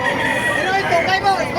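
Roosters crow and chickens cluck amid crowd chatter at a busy chicken market in Bocaue, Bulacan, with birds calling over a dense wash of voices.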